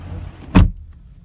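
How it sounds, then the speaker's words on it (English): A solid car door on a 2019 Volkswagen Jetta SEL Premium shuts once with a single heavy, close thud, then quiet cabin stillness. "shutting the door on the Volkswagen Jetta"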